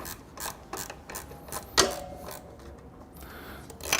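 A hand wrench removes an exhaust bolt on a Triumph Bonneville motorcycle, giving a quick series of faint metallic ratchet clicks with one sharper clank, close by and with no talk.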